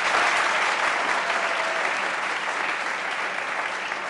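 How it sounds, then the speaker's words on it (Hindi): Dense, steady applause from a studio audience greeting a cricket discussion panel, loud and continuous without a break. "पैनल के लिए बहरहाल एक तो ताली बनती है।"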